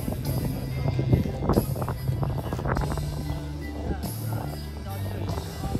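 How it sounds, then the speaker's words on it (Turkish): Strong wind gusts batter the microphone at an RC model airplane festival airfield, producing constant low rumbling buffets, while a person talks over it and brief hissing gusts surge in between. "Şu anda rüzgara rağmen çok ciddi bir rüzgar var."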